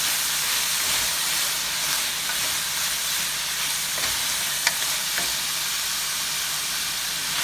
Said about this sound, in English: He's cooking right now on high heat. And that's just because of the volume of vegetables that we put in.